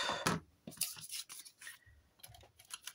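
Small scissors cutting paper for a vintage photo scrapbooking embellishment, a quick series of close, crisp snips and rustles at an uneven rhythm on a quiet desk.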